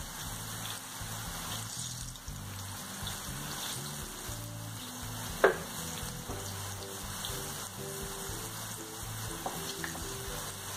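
Jiló, the small bitter scarlet eggplant, frying in hot oil: a steady, close crackling sizzle with scattered pops, fairly quiet and continuous, no talking.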